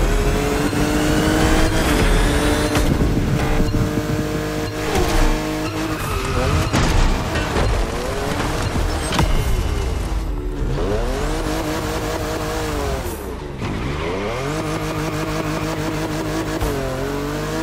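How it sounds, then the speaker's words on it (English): A car in The Crew Motorfest drifts through sharp turns, its engine revving loudly while tires squeal in long rising and falling sweeps. The sound is close and continuous, with no talking. "Drifting is the best way to take sharp turns without losing speed."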